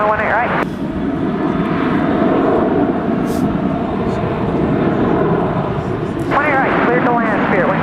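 A jet airliner taxis at Dallas DFW airport, its engines a loud, continuous broadband roar that holds steady throughout, close by and filling the scene, with no voices over it.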